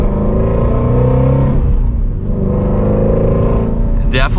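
A Ford Mustang Shelby GT350R engine drones loudly from inside the cabin during a test drive, holding a steady pull, easing off briefly midway and then building again, with a voice speaking over it.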